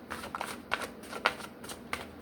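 Tarot cards are shuffled by hand close up, a quick series of crisp riffling bursts and soft slaps over about two seconds.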